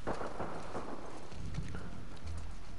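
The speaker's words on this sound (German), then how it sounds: "Oh, da ist ein Pferd." Horse hooves clip-clop in a steady walking rhythm under a low rumbling, rain-like background hiss, in the video game The Last of Us Part II.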